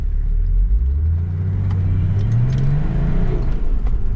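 A Nissan TD42 diesel engine runs in a GU Patrol fitted with a torque-focused engine swap. The deep, loud, close rumble climbs steadily in pitch as the engine revs and then holds, with no one speaking.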